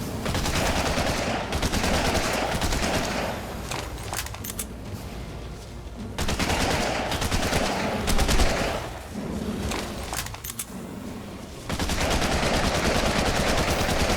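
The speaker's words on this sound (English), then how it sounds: "And then I'm gonna shoot some bullets at this guy." Rapid automatic gunfire in the video game ARK, loud bursts of shots rattling close up in several long strings separated by short gaps.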